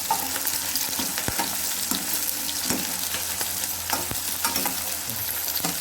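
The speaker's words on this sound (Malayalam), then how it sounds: "ചെറിയ ഉള്ളി നമ്മൾ എണ്ണയിലിട്ട് മൂപ്പിക്കുകയാണ്" Shallots and green chillies fry in hot oil for a mushroom fry, giving a steady, dense sizzle with scattered crackles and occasional spatula scrapes in the pan, close and continuous with no voices.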